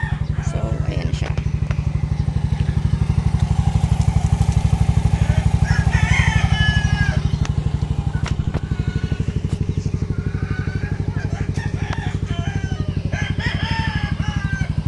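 A Yamaha Mio i 125s scooter engine, just after fuel injector cleaning, idles and revs with a steady loud putter up close, while a rooster crows and chickens cluck in the background.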